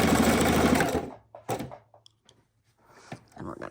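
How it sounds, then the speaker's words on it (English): A sewing machine running a straight stitch around the edge of fabric, a fast steady mechanical chatter for about a second, then stopping, followed by scattered clicks and handling sounds with brief talk. "let's go ahead and sew around this so I feel more confident"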